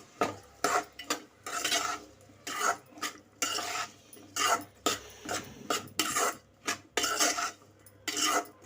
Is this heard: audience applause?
no